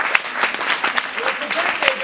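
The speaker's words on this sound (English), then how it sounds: "Round of applause for Allison!" Audience applause at a La MaMa ETC theatre performance, a short burst of scattered clapping under an ongoing voice.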